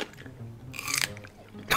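A woman bites into and chews a large cucumber, with wet crunching bursts near the middle and at the end over a low background hum.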